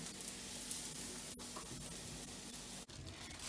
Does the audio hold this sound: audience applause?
no